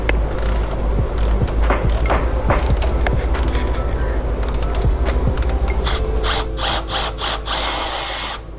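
Hex tool and 17 mm tool working loose the wheel axle on a Talaria supermoto, giving close, loud ratcheting clicks and metallic clanks in an irregular rhythm over a steady mechanical hum.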